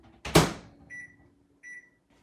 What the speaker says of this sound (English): I'm going to put it in the microwave for about 4 seconds